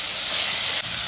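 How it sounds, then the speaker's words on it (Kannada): Ginger garlic paste frying in a pan, a loud, steady close-up hiss and sizzle, bright and unbroken, dipping briefly near the end. "ಇಲ್ಲಿ ಶುಂಠಿ ಬೆಳ್ಳಿ ಪೇಸ್ಟ್ ಹಾಕ್ಕೊಂಡಿದ್ದಾರೆ, ಅದನ್ನು ಹಾಕ್ಕೊಂಡು ಚೆನ್ನಾಗಿ ಫ್ರೈ ಮಾಡ್ಕೊಳ್ತಾ ಇದ್ದಾರೆ"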